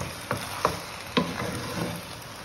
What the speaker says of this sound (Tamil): இப்போ நல்லா மிக்ஸ் பண்ணி விட்டுடலாம்